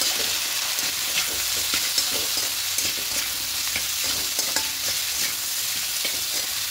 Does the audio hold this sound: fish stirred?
yes